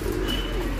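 Racing pigeons coo softly and steadily at close range, a low murmuring call repeated through the short stretch alone, with faint chirps above it.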